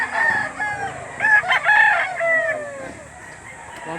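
Rooster crowing at a livestock auction market in Lipa, Batangas, several strained crowing calls close by over a murmur of background crowd noise.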